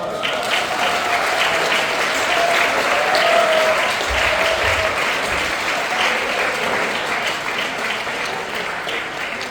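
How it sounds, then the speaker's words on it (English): Diners at a commencement dinner applaud Taiwan with steady, even clapping from a sizable room, moderately loud and continuous throughout, with faint murmurs underneath. "Let us applaud for Taiwan."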